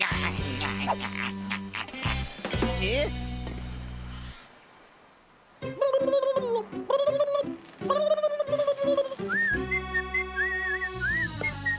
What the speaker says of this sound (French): arrête de siffler comme une marmotte